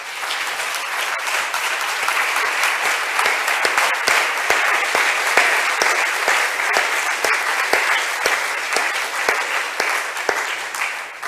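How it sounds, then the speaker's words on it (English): An audience applauds panelists at the close of a late panel discussion on alliances between the Global North and Global South, with dense, sustained clapping that stays loud and steady and carries a few sharper individual claps near the front. "So please give our panelists a warm applause and thank you for your presence."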